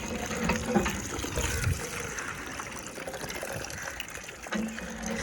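Water drawn from a hand pump for washing a car, splashing and gushing in uneven surges with a trickling, pouring texture, heard close with faint background noise.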